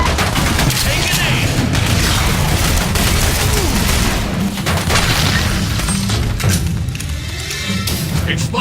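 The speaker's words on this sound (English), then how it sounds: "Grenade!" Grenade blast in The Bureau: XCOM Declassified, a deep booming burst amid continuous loud gunfire and combat noise, with heavy low rumble throughout and voices calling out over the fight.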